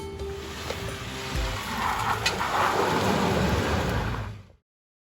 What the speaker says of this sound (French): La météo évolue, il commence à pleuvoir